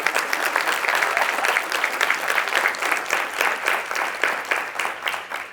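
An audience at a guest speaker presentation applauds with steady, dense clapping that holds for over five seconds and then slowly tapers, with no voices over it.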